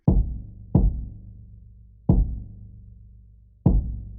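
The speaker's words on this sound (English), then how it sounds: "And yeah, there you have your lo-fi kick." A mellow, EQ'd lo-fi kick drum struck four times at uneven intervals, each a deep, rounded thump with a long low boom that rings out. The hits sound close and alone.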